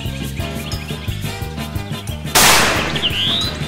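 A single loud shotgun blast fired at a turkey during a hunt, a sharp broadband crack followed by a ringing tail, over a background of rhythmic noise.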